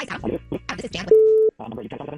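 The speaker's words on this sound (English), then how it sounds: "We got to make the phone call." A steady electronic telephone call tone sounds once for about half a second, loud and close, between stretches of talk.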